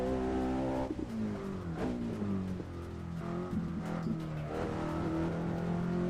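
In a racing simulator game, a car takes the Nurburgring carousel. Its engine drones loudly and continuously, with stepped pitch drops and climbs through the corner and no talking over it.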